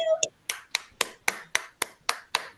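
A few unmuted online meeting participants clap in sparse, evenly spaced single claps, about eight sharp slaps in a row, close and clear, with a brief voice-like tone at the very start.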